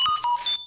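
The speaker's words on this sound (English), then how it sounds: "You will know it is time to turn the page when you hear R2-D2 beep like this." An R2-D2-style electronic beep sequence of rapid warbling, chirping tones signals a page turn in a read-along Star Wars: Return of the Jedi storybook; the bright, short droid chatter is heard alone and ends in silence.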